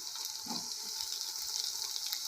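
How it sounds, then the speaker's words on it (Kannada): Onion and spring onions frying in a pan, a soft continuous hiss and sizzle at low volume with faint bubbling underneath, steady throughout. "ಈರುಳ್ಳಿ ಫ್ರೈ ಆಗಿದೆ. ಇವಾಗ ಸ್ಪ್ರಿಂಗ್ ಆನಿಯನ್ಸ್ ಹಾಕ್ಬಿಡೋಣ."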